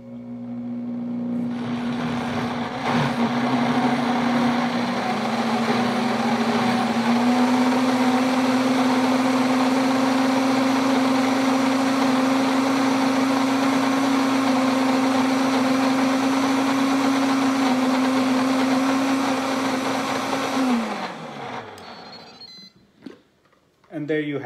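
A food processor grinds hummus in one loud, steady whir for about twenty seconds, its motor pitch holding flat and then winding down to a stop.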